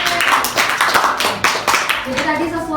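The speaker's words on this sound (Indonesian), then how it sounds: "Boleh tepuk tangan untuk Mas Ahna" A class applauds a student in a university lecture on Tamansiswa teaching innovation, with brisk, close hand claps in an uneven rhythm that thin out toward the end as a voice starts talking.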